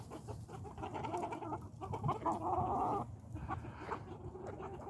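A young black rooster clucks and murmurs like a hen in a farmyard flock, a run of soft, uneven clucks that swell louder in the middle before easing off, with no voices.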